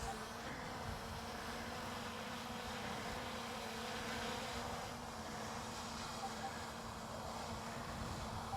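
DJI Mini drone climbing into the air, its rotors giving a steady, faint insect-like buzz that holds evenly throughout.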